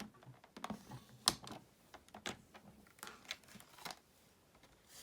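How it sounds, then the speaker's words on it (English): Paper being scored in a paper trimmer at the 2-inch mark, a series of quiet dry scraping strokes and light clicks at an irregular rhythm. "placing the paper into the trimmer at the 2-inch mark, I'm going to be scoring from the top of the paper to this score line"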